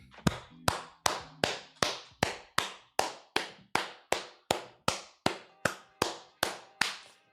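Hand claps repeating in a slow, even rhythm, about two per second, sharp and close with short ringing tails, and no talking.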